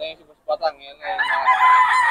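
A rooster at a poultry market in Bocaue lets out short clucks, then a loud, close, drawn-out crow.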